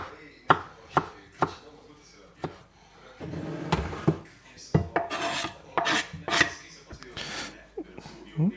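Four garlic cloves are crushed and rubbed for a hot-sandwich sauce: sharp, separate knocks at an uneven pace, then a busier stretch of scraping, grating strokes close by.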